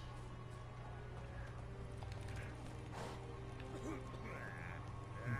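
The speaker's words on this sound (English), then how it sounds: "Oh, maybe I should get my horse." Roach, the horse in The Witcher 3 video game, clip-clops at a steady pace over a constant low hum of in-game ambience, with the hoofbeats staying fairly quiet throughout.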